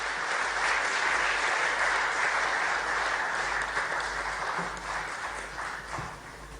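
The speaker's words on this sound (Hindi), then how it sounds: "तालियों से स्वागत करते रहिए।" Sustained audience applause at a ceremony honouring UPSC exam toppers in a hall, a dense, steady wash of clapping that fades slightly toward the end, with no talk over it.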